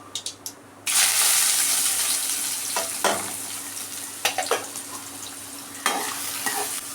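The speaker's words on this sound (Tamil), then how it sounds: "நல்லா வதங்கட்டும் வெங்காயம்" Onions frying in oil with mustard seeds and curry leaves for a prawn thokku. A loud steady sizzle bursts in after a quiet start, with stirring scrapes and clinks scattered through it and no talking.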